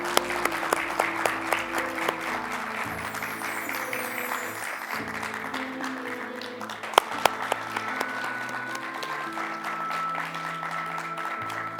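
An audience applauds a performer, scattered sharp hand claps sounding over sustained music that plays throughout.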